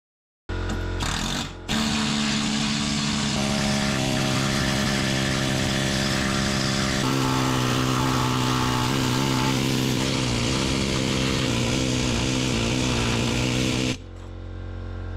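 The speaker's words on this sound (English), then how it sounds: "I wouldn't recommend using the needle scaler on cars with thin metal" A needle scaler hammers rust off the body of a Range Rover L322. The buzzing is loud and dense and runs almost without a break, with short stops near the start and a sudden cut-off near the end.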